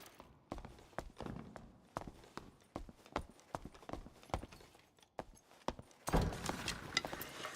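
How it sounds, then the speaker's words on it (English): Footsteps in a video game, a steady run of distinct thuds like hooves clip-clopping, moderately near, with a louder burst of noise near the end. "Hearing footsteps, though."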